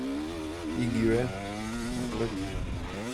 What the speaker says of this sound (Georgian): ისევ ჩამიქრა მოტო, ისევ დავკარგე რამდენიმე წამი.